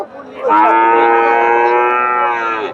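A single loud, drawn-out moo from a cow at Dhaper Haat cattle market in Bogura, rich and sustained for about two seconds, close by with no talking.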